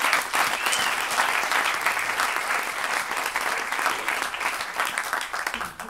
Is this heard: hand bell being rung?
no